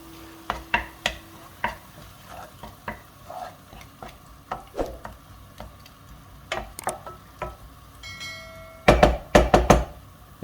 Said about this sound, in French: Et puis on va rajouter les champignons.